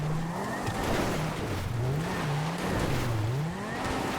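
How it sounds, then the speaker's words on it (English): Engine of a Bravado Banshee GTS sports car in the GTA Online video game, driven off-road on dirt: a steady, loud engine rumble whose pitch rises and falls as the throttle changes, heard alone throughout. "There's a bit of an engine rumble that isn't present on the regular Banshee that is here on this car."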